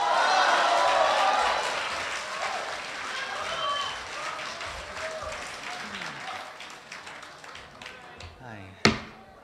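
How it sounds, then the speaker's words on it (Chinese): Warm audience applause at a live crosstalk comedy performance, loud at first and gradually thinning out, ending with a single sharp knock near the close. "感谢朋友们热情的掌声。"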